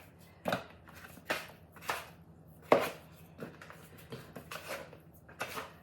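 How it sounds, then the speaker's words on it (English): A bowl scraper working wet sourdough dough produces scattered, sharp scraping and tapping knocks, about eight or nine separate strokes at uneven intervals, close and fairly quiet, with no talking. "this little bowl scraper is going to come in handy here because this dough's kind of wet"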